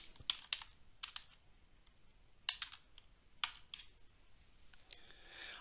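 Someone types on a computer keyboard in short, quiet bursts of crisp key clicks, with brief pauses between groups of keystrokes.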